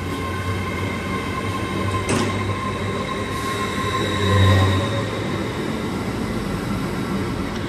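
A TransPennine Express class 802 train rumbles through Durham station on departure, a steady low engine and wheel drone with a brief squeal and a swell of louder running near the middle, no voices.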